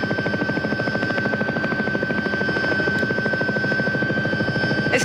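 A helicopter in flight gives a steady, loud rotor beat with a pulsing chop and an engine whine running through, continuous and close as from inside the cabin.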